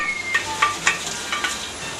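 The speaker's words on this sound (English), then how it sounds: "Bit of a rinse on the plate." A plate being rinsed under running water at a kitchen sink during dishwashing: a steady wash of water with a few sharp clinks and clatters of crockery, fairly close, with no talk.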